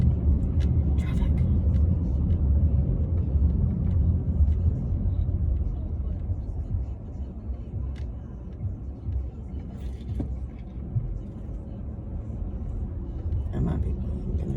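Steady low road rumble of traffic heard from inside a moving car, continuous and fairly loud throughout with brief higher clicks and knocks.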